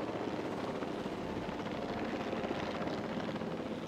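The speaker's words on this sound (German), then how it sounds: "Und hier kreist auch irgendwie komischerweise die ganze Zeit ein Heli." A helicopter circles over a dinosaur park in Jurassic World Evolution, its rotor giving a steady, loud, close whirring drone that does not let up, with no voices.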